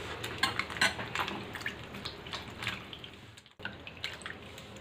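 Mushrooms being washed by hand in a full bowl of water in a home kitchen, with soft splashing, dripping and occasional clinks against the bowl, quiet and close.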